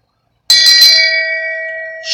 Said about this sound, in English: You know it's real when I bring the shame bell out.